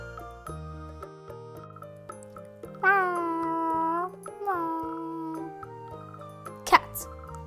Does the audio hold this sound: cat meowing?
yes